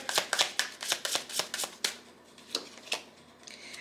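A tarot deck is handled at close range to draw a card, with a rapid run of crisp card flicks followed by a few slower, spaced snaps.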